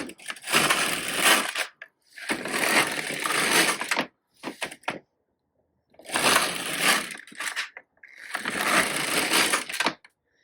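An LK150 knitting machine carriage is pushed across the needle bed in four long strokes of mechanical clatter and rattle, each lasting about two seconds with short pauses between, close and fairly loud, with no voices.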